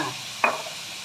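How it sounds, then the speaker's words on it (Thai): Rice is stir-fried with sauce and vegetables in a pan, one brief scraping stroke over a soft sizzle with no talk. "ผัดให้ทุกอย่างเข้ากันนะคะ"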